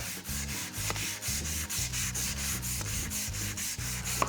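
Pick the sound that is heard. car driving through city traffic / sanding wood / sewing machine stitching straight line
sanding wood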